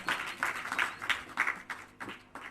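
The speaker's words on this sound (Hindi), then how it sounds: "एक बार जोरदार तालियों से उनका स्वागत करते हैं" Audience at a national seminar applauding to welcome a poet, a steady wave of clapping from many hands, moderately loud, continuous with rhythmic peaks, with no voices.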